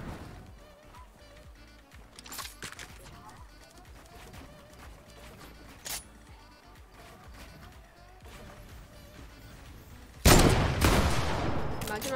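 Fortnite Arena Duos combat with scattered gunshots and clatter at moderate level, then a loud sniper blast near the end followed by sustained noisy action; players talk intermittently.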